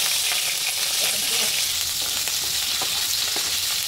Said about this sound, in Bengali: চিংড়ি মাছ দেওয়ার পর থেকে এমন ছিটা শুরু করে